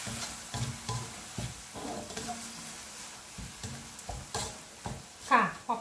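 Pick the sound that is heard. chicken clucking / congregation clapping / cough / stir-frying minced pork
stir-frying minced pork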